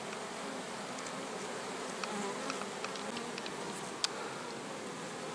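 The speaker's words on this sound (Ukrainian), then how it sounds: "Ось так працюють бджолки на різнотраві, без зайвої метушні, але дуже наполеглива та результативна." Many honey bees hum steadily outdoors while working wild forest herbs, a dense continuous buzz with occasional brief ticks and rustles.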